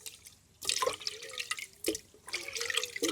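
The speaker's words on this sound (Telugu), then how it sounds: "కొద్దిగా చింతపండు నీళ్ళలో వేసుకొని పిసుక్కోవాలా" Tamarind squeezed by hand in water for a pulusu with bitter gourd, giving soft wet squishing and dripping sounds in short irregular bursts, close and fairly quiet.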